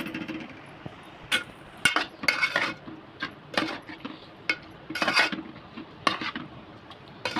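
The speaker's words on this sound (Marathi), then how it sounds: "आता याला थोडं मिक्स करून घेते." Pieces of fish being mixed by hand or spoon with salt, chilli powder and turmeric in a metal bowl, a run of uneven scraping and clinking bursts with short pauses, close and fairly loud.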